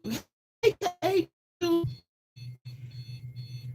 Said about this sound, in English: you first go home and turn off that alarm